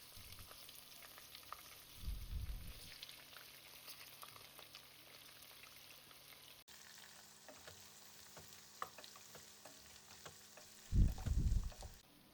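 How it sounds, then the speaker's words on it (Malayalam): Garlic, onion, green chilli and capsicum sautéing in a pan, a soft steady sizzle with two louder bursts of stirring and scraping, quiet and close with no talking. "പിന്നെ അതിലേക്ക് കട്ട് ചെയ്ത് വെച്ച വെളുത്തുള്ളി, ഉള്ളി, പച്ചമുളക്, ക്യാപ്സിക്കം എല്ലാം ഇട്ടിട്ടൊന്ന് വഴറ്റിയെടുക്കാം."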